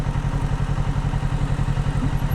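A Kawasaki Ninja 650 motorcycle idles loud and close in a bus parking area, its engine pulsing in a steady, even low rhythm throughout with no voices.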